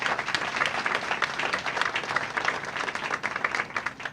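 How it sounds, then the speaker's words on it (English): Shoppers and staff applaud at the opening of a Big Y World Class Market store in Marlborough, Connecticut, a sustained crowd clapping that stays dense and even for several seconds. "let's give a round of applause for that"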